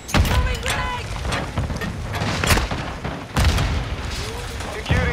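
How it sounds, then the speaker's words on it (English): Loud, booming shotgun blasts in a video game, several sharp bursts spread through the clip amid busy battle noise. "This has been the worst shotgun I have used in a while."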